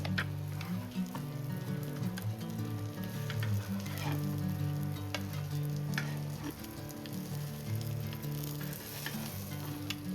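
Shivda fish frying in a pan of hot oil, a steady dense sizzle with crackling pops running continuously and close for the whole stretch, with no voices.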